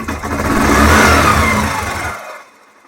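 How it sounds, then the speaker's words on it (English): A Yamaha XTZ 125 motorcycle with a failing idle revs up near and loud, holding high RPM after the throttle closes before cutting off abruptly. "You close the throttle, but the RPM is still high up."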